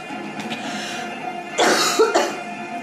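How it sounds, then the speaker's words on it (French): One person gives a couple of sharp, close coughs indoors after a quiet stretch of faint background noise. "et ben je tousse."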